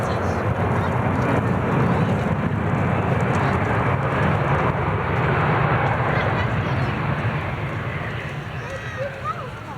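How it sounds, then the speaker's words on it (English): A Swiss International Airlines Airbus A320 inbound from Zurich at Manchester Airport, a loud, steady broadband jet roar with a low rumble that holds throughout and eases slightly near the end; a voice talks over it. "inbound from Zurich, Swiss International Airlines Airbus A320"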